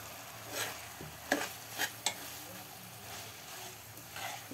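Paneer frying and being stirred in a pan with onion and tomato, dhaba-style bhurji; soft sizzling with a few sharp spoon scrapes and clicks, close by, with faint background voices.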